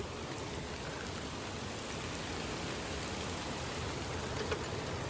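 Rain falls steadily on the container of an Eicher truck, a dense, even hiss of drops drumming on the metal throughout without a break, with no voices.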